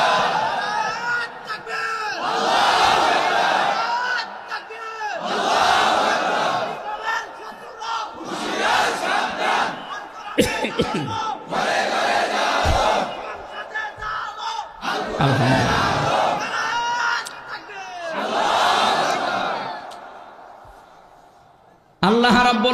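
A large crowd at an Islamic sermon gathering answers a takbir call, roaring 'Allahu Akbar' in about six loud, echoing bursts a few seconds apart, with brief pauses between them.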